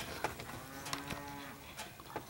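Cows waiting to be moved up front and fed low out in the back, a long drawn moo carrying at moderate distance over soft outdoor background, with faint scattered calls around it.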